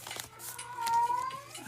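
Cat letting out a drawn-out, wavering yowl close by, with short scratchy noises around it and no talk.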